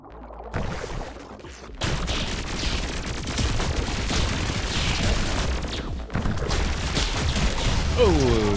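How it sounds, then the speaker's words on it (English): Bursts of explosive booms and gunfire-like blasts from the video game Pathogenic, with a short silence before a dense run of crackling detonations that carries on to the end under steady game noise. "the explosion enemy almost got me there"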